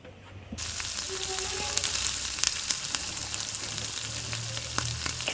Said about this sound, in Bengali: দিয়ে এটাকে ভালো করে নেড়ে চেড়ে কষাতে হবে।